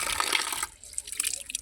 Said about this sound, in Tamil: நான் தண்ணியில் உங்களுக்கு கழுவி காட்டுறேன் எப்படி இருக்குன்னு பாருங்கள்